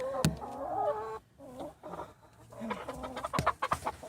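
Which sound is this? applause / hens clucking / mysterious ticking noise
hens clucking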